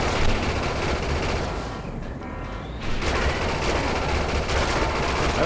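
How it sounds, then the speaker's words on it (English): Continuous heavy minigun fire in the video game Defiance 2050, a dense loud roar of rapid shots that dips briefly in the middle before surging back at full intensity. "The minigun!"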